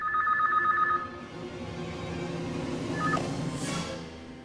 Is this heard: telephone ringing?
yes